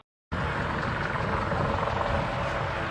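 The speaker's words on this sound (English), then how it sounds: "the final aircraft display of the afternoon, the Army Air Corps Lynx helicopter" An Army Air Corps Lynx helicopter flying at an air display, its loud continuous rotor throb starting abruptly after a brief silence and holding steady to the end.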